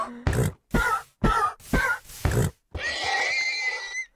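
A horse burning in Minecraft lets out five short, harsh grunting cries in quick succession, then a longer strained, whinnying cry, all close and loud with no talk.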